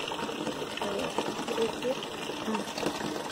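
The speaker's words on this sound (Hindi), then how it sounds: "पानी भर रहा है" Water runs steadily into a bucket for bathing, a continuous gushing, splashing stream heard close up, with a voice speaking over it at points.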